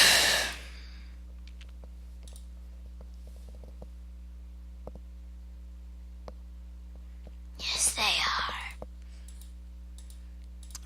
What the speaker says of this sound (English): Still yawning.